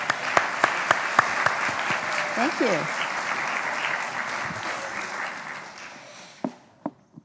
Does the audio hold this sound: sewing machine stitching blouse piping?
no